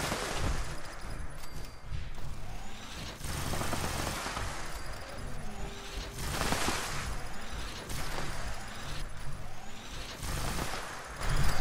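Rapid sustained fire from a double explosive scattered Gatling plasma gun in Fallout 76, a dense continuous roar of bursts and blasts running the whole stretch at steady loudness.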